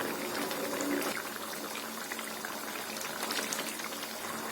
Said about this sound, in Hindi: दाल में उबाल आ गया